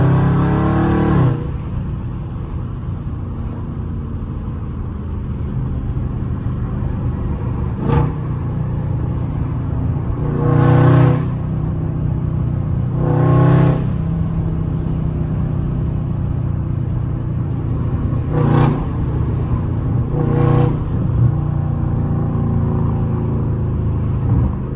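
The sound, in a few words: car engine revving in traffic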